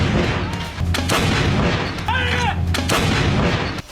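The Dhanush, a domestically built 155 mm-class howitzer artillery gun, fires shells in several heavy booming blasts, each loud report followed by a rolling rumble across a few seconds.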